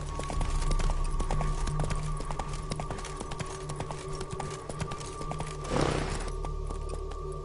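Roach the horse gallops in a video game, a steady run of quick, loud hoofbeat clip-clops with a brief burst of noise near the end over a constant musical drone.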